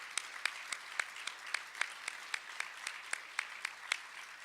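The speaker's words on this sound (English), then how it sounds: "Let's have a round of applause for their all great work." An indoor audience at the Illinois Bicentennial kickoff press conference applauds, though the clapping is sparse: a dozen or so distinct, evenly spaced claps at a moderate distance, fairly quiet, with no talking.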